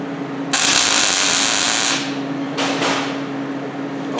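A GMAW short-circuit tack weld on 14 gauge steel plate gives a loud, steady crackling buzz for about a second and a half, then a shorter burst follows after a brief pause, with a low hum underneath.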